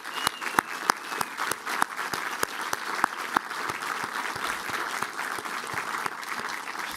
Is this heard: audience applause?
yes